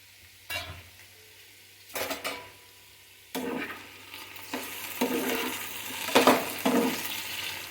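Okra and green chilli curry is stirred in a pan, several separate bursts of spoon scraping and clinking over a gentle sizzle, close and fairly loud, with quiet gaps between strokes and no speech.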